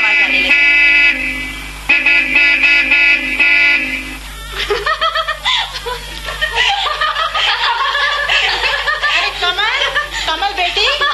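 A car horn sounds in a Hindi radio comedy play, a few sustained honks heard up close early on, followed by laughter and chuckling voices over a faint background hum.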